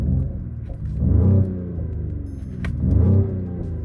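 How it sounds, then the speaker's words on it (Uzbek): A Mercedes-AMG coupe engine, GLC 43 or GLE 53, in Sport Plus mode gives a deep, loud rumble close by, swelling twice in short throttle blips before settling back to a low idle, with no talk. "Sport plusga o'tkazganimizda srazu mashinani ovozi ham o'zgaradi."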